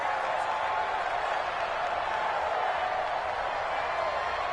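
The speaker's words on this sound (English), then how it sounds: "the crowd getting into it" Stadium crowd in a football video game on PS4 roars in a steady, broad wash of cheering around a big third-down play, loud and continuous throughout.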